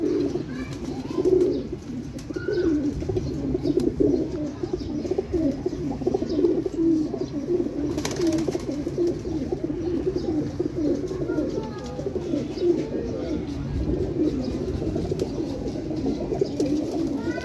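Flock of high-flying pigeons at a rooftop loft in Lahore, some dyed with colour, cooing in soft continuous murmurs alongside scattered chirps, moderately close, with no talk over them.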